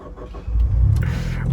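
Rebuilt Mitsubishi EVO V RS engine revs after a quiet idle, surging to a loud, sustained mid-pitched roar that holds for about a second.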